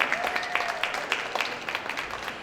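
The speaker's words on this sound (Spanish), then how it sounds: "Dale un aplauso." Brief audience applause in a room during a Bible study workshop, a short patter of several hands clapping close by with uneven, scattered claps.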